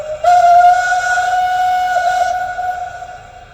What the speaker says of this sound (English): F1 is your basic long whistle.